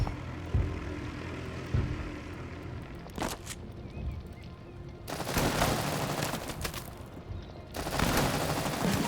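Anti-aircraft gun fire in the WWII tank game Total Tank Generals: scattered distant thuds, then two long bursts of rapid rattling gunfire over a low background rumble.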